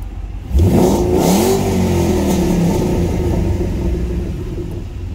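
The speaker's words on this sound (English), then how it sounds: "It's got a wicked exhaust tone." A 2011 Ford Mustang Shelby GT500 V8 fires up and revs hard, its deep exhaust roar rising then settling into a loud, rumbling idle close by.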